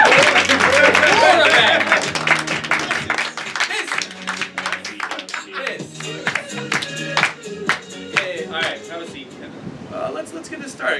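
A comedy-theater crowd applauds a performer introduced on stage, clapping loudly at first and then thinning into scattered claps under voices and stage noise.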